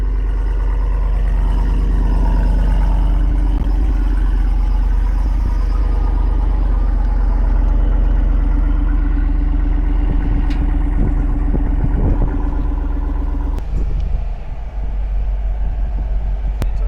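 A new Jeep Wrangler 392 V8 idles with a loud, deep, steady low rumble throughout, with a brief dip and a few clicks near the end.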